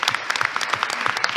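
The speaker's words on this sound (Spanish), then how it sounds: "pido un aplauso para Pablo y para toda la" Brief audience applause at an official opening ceremony with national and provincial authorities, a steady patter of many hands clapping at moderate volume.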